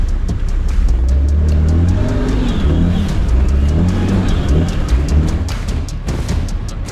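A car fitted with small tyres revving hard during a smoky burnout, a loud, sustained engine roar with rising and falling revs up close, no talking over it.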